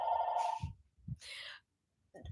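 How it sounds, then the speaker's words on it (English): A telephone rings in a short burst, loud at first and then breaking off, with a few soft thuds and a brief faint tone near the end. "That's the phone."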